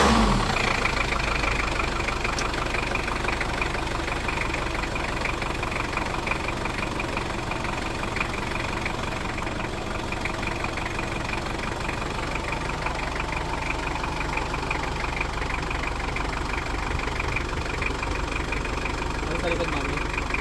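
A Mitsubishi Pajero diesel engine, long unused and primed before starting, cranks briefly and settles into a steady, loud, knocking idle close by, with a voice speaking faintly over it.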